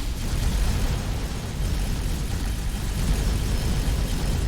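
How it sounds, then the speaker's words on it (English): An explosion in a space video game, heard as a steady, heavy, low rumbling roar that holds at an even loudness throughout with no distinct single blast and no talking. "Explosion imminent."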